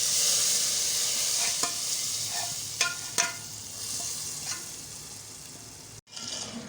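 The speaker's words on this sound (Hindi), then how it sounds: "अब दाल को बघार लगाते हैं" Hot tadka tempering poured into dal for a restaurant-style shahi dal: a loud bright hiss that gradually settles into steady frying sizzle, with a few soft clinks along the way, then a brief cut and the sizzle resumes.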